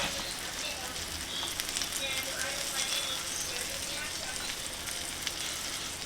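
Eggs frying in a pan make a steady, close sizzle and crackle that runs throughout, with a few small pops along the way.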